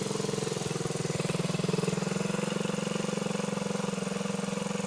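A 1977 Honda CT90 Trail motorcycle engine runs steadily nearby, a rapid even buzzing putter that holds at a constant pace throughout, loud and alone with no voices.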